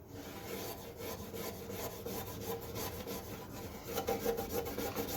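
A scraper is worked at an angle across crested gecko terrarium glass to remove water spots, giving a continuous rough rasping scrape that grows slightly louder toward the end.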